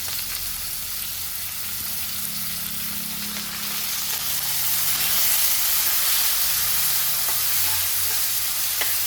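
Chopped onion hits hot oil with garlic in a pan while cooking a Rajasthani hotel-style spinach dish, giving a loud, steady sizzle and hiss that swells slightly louder halfway through, with no talking.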